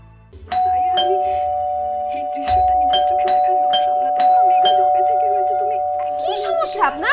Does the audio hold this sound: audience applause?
no